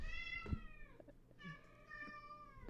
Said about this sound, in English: my cat, she's going crazy